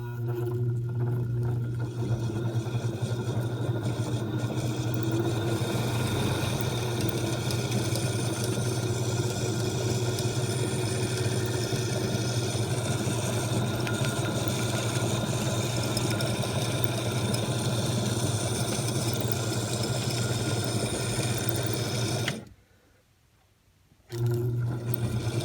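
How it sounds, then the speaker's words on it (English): An antique Singer sewing machine motor running under foot pedal control, giving a steady mechanical hum and whir close by that cuts off abruptly near the end and then briefly resumes. "when the motor's running, it actually runs the sewing machine"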